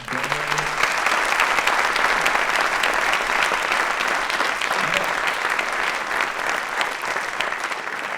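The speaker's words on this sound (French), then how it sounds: "Merci, on peut les applaudir." Steady, dense applause from a large audience fills the whole stretch, loud and unbroken with no talking over it.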